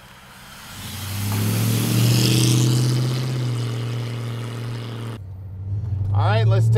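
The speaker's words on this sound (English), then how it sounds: "Let's take this 40 Chevy pickup truck for a ride." A 1940 Chevrolet pickup, a custom truck, drives with a steady low engine drone that swells as it pulls away and stays loud throughout, with a brief dip before rising again.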